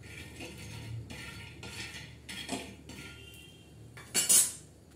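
Peanuts dry-roast in a pan for a spicy peanut chutney, stirred in short rattling, scraping bursts with a metal spatula, the loudest clatter coming near the end.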